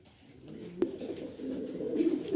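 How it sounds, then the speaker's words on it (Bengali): A pair of pigeons coos softly in a loft, low rolling calls building gently, with one sharp click partway through. "এখানে এক পেয়ার কবুতর দিলাম"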